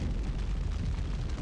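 Grenade explosion in Max Payne, a low, heavy rumbling boom that fills the whole brief moment at moderate loudness.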